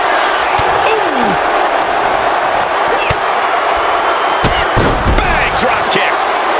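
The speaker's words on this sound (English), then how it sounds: "Bang! Drop kick." Drop kick impacts in the WWE 2K25 wrestling video game land as several sharp slamming thuds over a steady roaring arena crowd, with commentary heard throughout.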